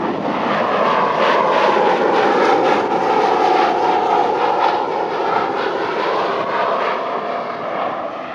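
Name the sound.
Corvette driven at wide open throttle over 170 mph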